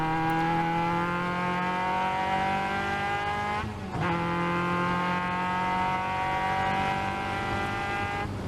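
Caterham race cars at a 2021 Pacific Northwest race roar past close by, their engines droning at high revs with gear changes and a brief dip as one shifts, the sound continuous and loud throughout.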